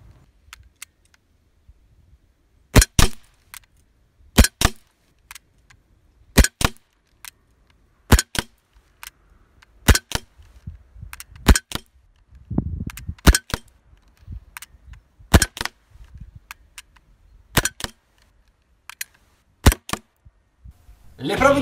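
Test shots from a Beretta APX Umarex CO2 airsoft pistol, a series of sharp, sparse cracking pops spaced a second or two apart, close and crisp against near silence, with quiet handling noise between.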